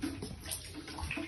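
Water leaking through a ceiling and dripping in a freshly renovated apartment: a faint, steady running and splashing wash with soft drips, heard at low level without talk.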